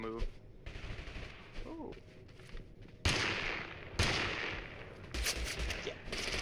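Rapid gunfire in the battle royale game Totally Accurate Battlegrounds, dense bursts and sharp shots stacking up near and loud, with a brief exclamation from a player partway through.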